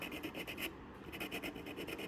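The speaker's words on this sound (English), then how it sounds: "So I'm gonna sand that down. I'm just using a nail file." A nail file rasps back and forth over a small dollhouse miniature to remove glue and fabric residue, quick rhythmic scratchy strokes with a brief pause midway, faint and close.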